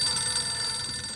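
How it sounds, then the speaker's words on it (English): A telephone bell rings steadily in a sustained, bright tone for about a second, with no talk over it. "A moment later, the phone rang."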